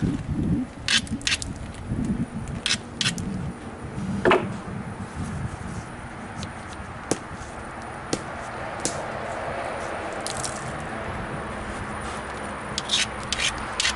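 A stone platform edge being ground on a Georgetown spall preform during flintknapping, a steady close rasping rub with repeated short gritty strokes and a few sharper scrapes.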